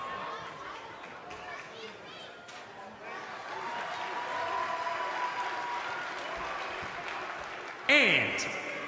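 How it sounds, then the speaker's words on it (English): A wrestling arena crowd in the WWE 2K20 video game roars and applauds in a continuous swelling wash, with commentators talking over it and a sharp whistle-like burst near the end. "Listen to this crowd, guys. They're fired up for this one."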